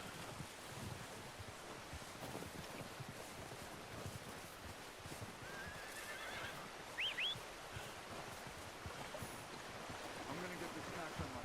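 In Red Dead Redemption 2, a horse lets out a short whinny partway through against a constant windy outdoor ambience, with soft thuds and rustling around it.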